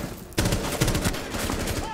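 Rapid gunfire in the video game Rainbow Six Siege, a dense burst of loud repeated shots that starts abruptly and continues to the end, over a busy game soundscape.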